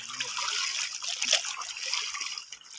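Water trickles and splashes steadily as laundry is rinsed by hand, a continuous close, hissing flow with no speech over it.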